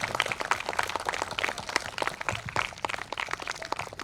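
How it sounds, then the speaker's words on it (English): Group of people at a school yoga session clapping hands together, a dense, steady patter of many overlapping claps held at moderate level throughout, with no speech over it. "Big clap for yourself."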